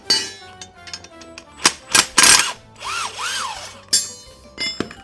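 A cheap Makita-style impact wrench tightening a bolt fires in several sharp hammering bursts, loud and close, with clanks and handling noise between them.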